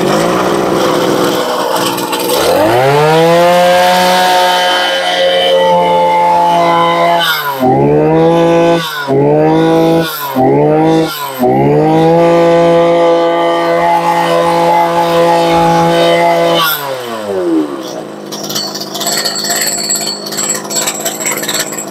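A Mitsubishi engine on a Japanese grass cutting machine idles loud and close, its steady hum broken around the middle by several rapid throttle blips before it settles and winds down near the end.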